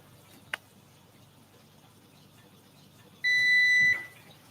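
A kitchen timer goes off during spaghetti cooking, giving a single steady electronic beep lasting under a second. A brief sharp click comes earlier, and the rest is quiet room tone.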